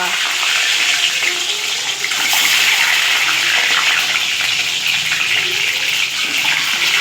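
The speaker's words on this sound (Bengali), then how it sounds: "তেল গরম হয়ে গেছে এর মধ্যে এবার চলে যাবে এই ডিমগুলো দিয়ে দাও ডিমগুলো তেলের মধ্যে" Eggs and potatoes fry in hot oil for an egg curry, giving a loud, continuous, close sizzle and hiss that stays steady throughout.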